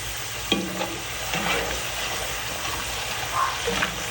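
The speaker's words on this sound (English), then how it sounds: "We'll drop these in and get them cooking." Hand-cut fries dropped into hot oil in a cast iron pan set up in a BSR deep fryer, giving a steady close sizzle and bubbling with a few louder splashes as they go in, no talking.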